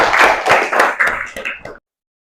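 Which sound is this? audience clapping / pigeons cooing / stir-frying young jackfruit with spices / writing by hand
audience clapping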